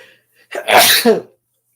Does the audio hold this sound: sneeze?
yes